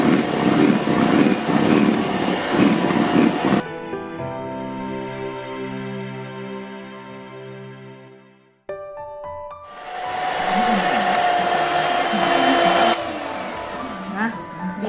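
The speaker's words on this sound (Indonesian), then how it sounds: "Karena ini hanya 4 telur, jadi nggak usah yang kecepatan tinggi banget, 3 aja cukup ya di mixer ini." An electric mixer whirs loudly as it beats four eggs with sugar for a rice flour butter cake, a steady high motor drone that pauses briefly and then resumes.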